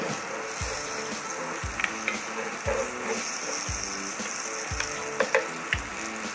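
Margarine heating in a non-stick cast iron pan gives a steady soft sizzle and hiss throughout, with a few light clinks and thumps over the top and no talking.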